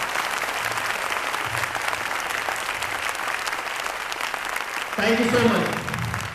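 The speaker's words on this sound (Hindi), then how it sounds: "खूब जम के ताली बजाइए, अपने लिए जोरदार ताली बजाइए।" Sustained audience applause at a motivational talk in Kolkata, a dense steady clatter of many hands that fills the clip, with a brief spoken thank-you over it near the end.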